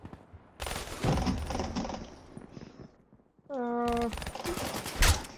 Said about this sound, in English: I shot him once, and then I shot him twice.